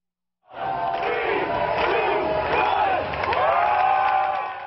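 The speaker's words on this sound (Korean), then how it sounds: "환호성 속에 애플 매장에 들어서는 고객들" Customers cheer and whoop as they stream into an Apple store for the iPhone 5S and 5C launch, a loud, dense crowd roar holding steady throughout with shouted voices rising above it.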